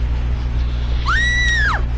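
A high, rising-then-falling scream rings out for about a second in a video game, loud and close above a steady low rumble of a roaring train.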